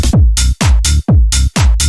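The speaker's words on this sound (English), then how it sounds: "when we add in that snare, it just gives it a level of punch and sharpness" Electronic clap layered with a snare drum crack, hitting hard and crisp over deep kick thumps in a tight repeating tech house loop, loud and unaccompanied by speech.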